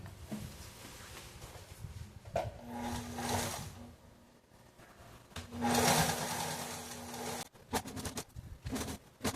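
A sewing machine runs a seam on fabric in short, uneven bursts of whirring motor noise, moderately close, with brief stops and handling sounds between runs.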